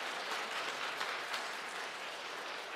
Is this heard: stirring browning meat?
no